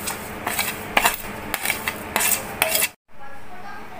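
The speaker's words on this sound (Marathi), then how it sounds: "सर्व मिक्स करून घ्यायचं आहे" A spoon briskly stirs tamarind chutney ingredients with chili powder, salt, black salt and sugar in a bowl, making rhythmic clinking scrapes about twice a second, close and clear, then stopping abruptly.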